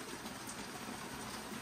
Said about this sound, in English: Now that rain is so bad.